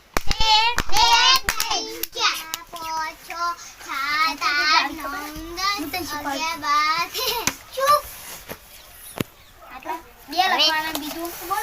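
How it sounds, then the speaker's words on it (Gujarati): Schoolchildren in a classroom clap together in short bursts of sharp hand claps, mixed with their chanting voices. "સૌ એના માટે ત્રણ તાળી પાડવી"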